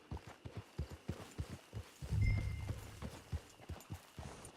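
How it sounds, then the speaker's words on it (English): Steady clip-clop of horse hooves walking at an even rhythm in the video game Red Dead Online, moderately close, with a brief louder rumble partway through. "It's your horse."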